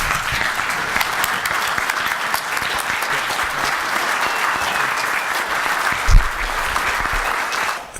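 An audience at an Arizona campaign event for Governor Doug Ducey breaks into sustained, loud applause that holds steady for several seconds without pause.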